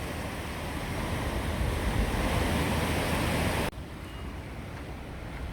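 Steady, loud roar of rushing floodwater in a river fills the scene, a broad continuous wash of noise that drops abruptly to a quieter rush near the end.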